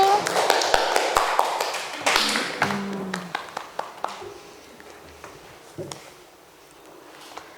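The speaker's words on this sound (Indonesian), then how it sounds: "Ayo dikasih tepuk tangan buat temannya yang udah maju" Classroom applause for a group that has just presented, a burst of clapping in the first two seconds and then scattered, fading individual claps, with voices murmuring through the room.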